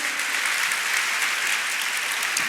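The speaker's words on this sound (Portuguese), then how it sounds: "Pode dar uma salva de palmas para Jesus." A church congregation during a Portuguese-language sermon applauds in a continuous, even wash of clapping, steady and fairly loud for the whole short stretch.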